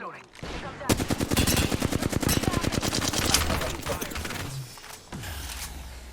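Rapid bursts of gunfire in a battle royale video game firefight, dense rhythmic shots for several seconds that break off, then a few scattered sounds near the end.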